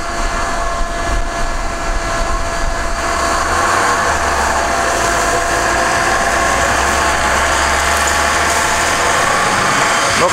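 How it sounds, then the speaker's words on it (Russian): A loud car engine on mud-terrain tyres drones steadily while climbing a snowy hill, its low rumble shifting in pitch as it labors under load, with no voices heard. "Сейчас максимально на горочку он заедет, если заедет."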